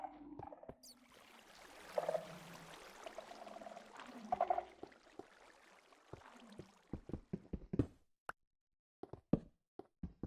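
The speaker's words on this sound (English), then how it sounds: "I came from this waterfall right here" A waterfall flows in the Minecraft video game, a steady rushing wash for about six seconds that then gives way to scattered sharp clicks and knocks, with no talking.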